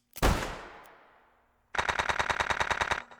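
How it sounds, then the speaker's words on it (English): Video game gunfire: one loud, booming shot with a long echoing decay, followed by a rapid, evenly spaced burst of about a dozen machine-gun rounds, close and loud. "One last shot rings out."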